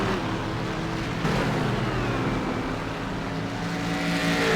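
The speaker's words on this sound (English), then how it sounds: "there's cars everywhere. Ford GTs, Corvettes." Ford GTs, Corvettes and other GT race cars roar around Suzuka in a sim racing video game, a steady dense engine drone with shifting pitch as several cars run close together, loud and continuous throughout.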